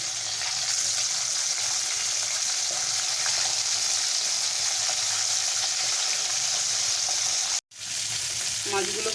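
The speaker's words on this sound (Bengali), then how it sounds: "মাছটাকে খুব হালকা করে ভেজে নিচ্ছি, বেশি কড়া করে ভাজবো না" Pomfret fish frying lightly in hot oil gives a loud, steady sizzle that runs unbroken for several seconds, cutting out briefly near the end before resuming.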